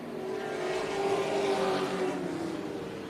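Modified race cars on the final lap at Tucson Speedway make a sustained engine roar that swells and fades slightly as the pack passes, a continuous droning tone with no distinct individual passes.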